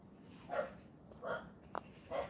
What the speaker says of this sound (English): And I don't know why the dog's barking